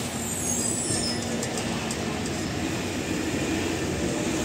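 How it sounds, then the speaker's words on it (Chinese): A long electric tram passes on a Milan street, a loud, close, continuous rumble of wheels on rails with faint high squeals near the start. "这个电车较长啦"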